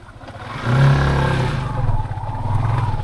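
A motorcycle engine revs on muddy off-road ground, a close, rough mid-pitched growl that rises, holds, then drops into an uneven chugging idle.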